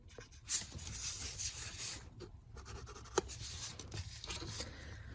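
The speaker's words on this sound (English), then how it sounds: "Now mark each crease you made with the pencil." A pencil marks the creases on a folded paper plate, quiet scratching strokes up close with one brief tap partway through, no voices.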